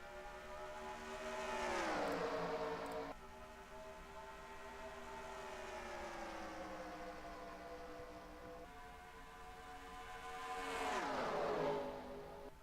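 Race cars in the NR2003 racing game at Homestead roar past as a pack, engine tones sweeping up loudly near the start and again near the end, with a steady engine drone between and no voices.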